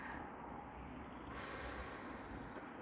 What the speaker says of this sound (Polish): Wdech nosem